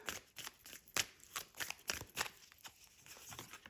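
Tarot cards shuffled by hand for a reading, a steady run of crisp riffling bursts and soft slaps repeating about twice per second, close and fairly quiet with no talking.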